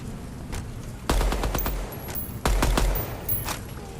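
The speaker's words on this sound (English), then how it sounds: "let's try the single fire now" Video game gunfire in a single-fire mode: two clusters of sharp, loud shots in quick succession, the first group near one second and the second around two and a half seconds, with faint background noise between them.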